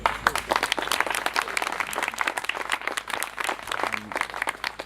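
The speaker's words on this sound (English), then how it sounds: "So a big round of applause to them." Guests at a wedding party applaud, a steady wash of many hands clapping at close range that continues without a break.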